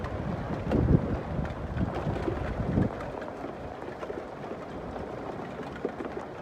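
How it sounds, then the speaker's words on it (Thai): Strong wind roars during a storm of rain and hail in Canada, a continuous blustery rumble buffeting the microphone, louder gusts early on then settling to a steady roar, no voices. "มีทั้งฝนมีทั้งลูกเห็บรวมกันมาเลยเนี่ยโอ้ยลมยังแรงเลย"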